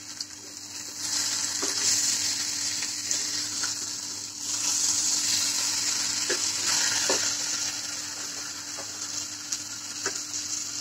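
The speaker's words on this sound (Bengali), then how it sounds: "একটু হালকা এই তেলে ভেজে নিব" Fish sizzling in a little oil in a pan, a loud steady hiss with small surges and occasional light clicks as the pieces are turned.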